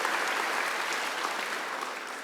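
Congregation applauding during a church worship service, a dense, even roar of many hands clapping at once, steady and sustained from start to finish.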